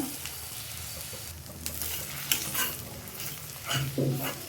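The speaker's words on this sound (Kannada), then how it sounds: "ಹೀಗೆ ಸ್ವಲ್ಪ ಫ್ರೈ ಮಾಡ್ಕೊಳ್ಬೇಕು ಮೊಟ್ಟೆನ" Four eggs fry at the side of a pan for a drumstick-leaf egg bhurji, a close, steady sizzle with stirring scrapes and a few louder clatters of a spatula.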